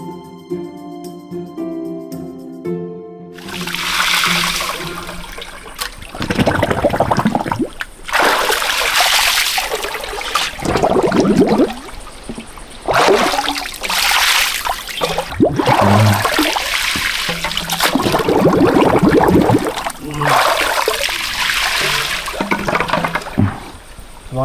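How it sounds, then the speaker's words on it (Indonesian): Water from a stream pool gushes and splashes as it drains out through bamboo in a forest stream, a loud continuous rushing in repeated surges, after a quiet start. "Jadi nguras airnya bisa lebih cepet nih."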